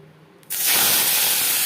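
Shrimp, about 150 grams, hit three spoons of hot refined oil. After half a second of near quiet, a sudden loud spattering hiss erupts and holds steady and close.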